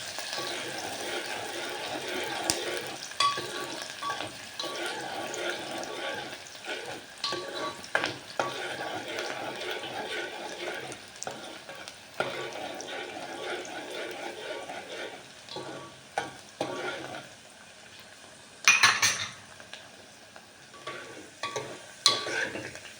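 Onions sauté in a pan in a home kitchen for a Kathiyawadi veg yakhni pulao, sizzling softly while a spoon stirs and scrapes in repeated bursts, close and fairly quiet.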